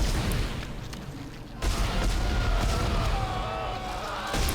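Enemy turret bullets fire in Dead Space on PC, a steady stream of rapid shots and muffled booms running throughout, loud and close, with a brief drop near the middle and a voice talking over it.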